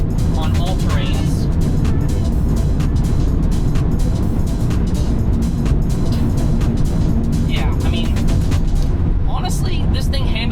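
A Tesla on all-terrain tires accelerates hard at full throttle into a corner, giving a loud, steady roar of tire and road noise with wind buffeting that stays constant throughout.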